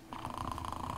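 A cat purring steadily up close, a continuous rumbling buzz with a soft rhythmic pulse that holds for about a second.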